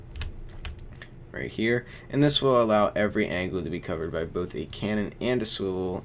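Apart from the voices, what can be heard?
loud computer keyboard typing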